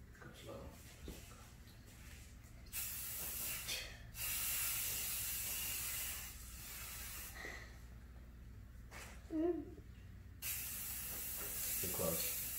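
A spray can spraying paint in bursts of steady hiss, some lasting several seconds, with short gaps and people talking quietly between them.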